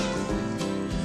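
A kitten meows in a movie trailer about a puppy and a kitten, a single drawn-out, loud, tonal cry that fills the moment with no talk over it.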